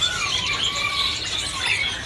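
A sulingan emas songbird in a bird shop sings a run of thin, high warbling whistles and squeaky chirps, close and fairly loud, with a soft background hiss and no voices.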